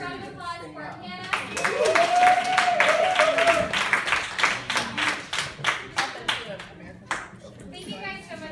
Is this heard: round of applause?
yes